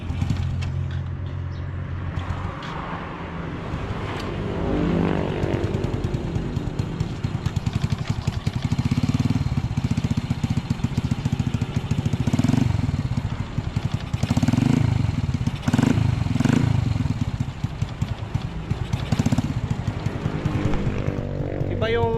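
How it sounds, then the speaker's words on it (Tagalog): A rough, noisy motorcycle engine runs steadily and close by for the whole stretch, a continuous low mechanical drone with uneven, rasping texture and no clear revving peaks. "maingay yung makina pag umaandar so paparinig ko sa inyo"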